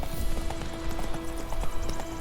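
Roach, a horse in The Witcher 3, galloping with a quick, steady rhythm of close hoofbeats over a low rumbling background.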